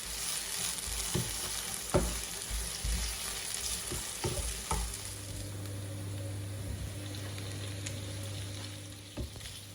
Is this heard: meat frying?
yes